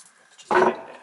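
Wire cutters snip a suppressor wire inside a Numatic Henry HVC200 vacuum cleaner during a strip-down, giving one short, close metallic crunch in otherwise quiet surroundings.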